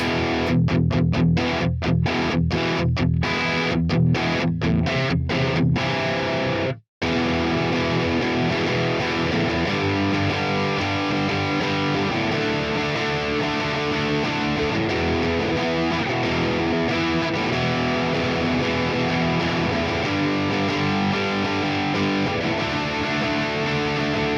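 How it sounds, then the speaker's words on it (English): Heavily distorted electric guitar chords and riffs from a Quad Cortex amp modeler, recreating a song's tone, play loudly and continuously, with choppy stops early on and a brief silent break before sustained playing. "presence we're also going to bump up to 6 on this one just to kind of give it a little bit of more like character"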